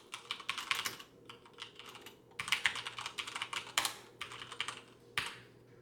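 A gaming keyboard is typed on in quick bursts of clicky keystrokes separated by short pauses, close and clear with a faint background hum.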